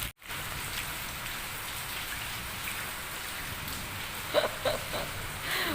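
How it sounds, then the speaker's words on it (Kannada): Heavy rain pours steadily outdoors as a dense, continuous hiss with scattered drop impacts, a couple of louder splashes near the end, and no voices. "ಇವತ್ತು ಬಂದರೆ ಒಂದು ಮಳೆ ಬಂದಿದೆ ಹೇಗೆ ಗೊತ್ತುಂಟ ನೋಡಿ"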